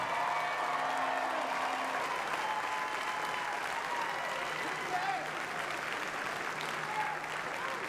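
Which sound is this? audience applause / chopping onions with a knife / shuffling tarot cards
audience applause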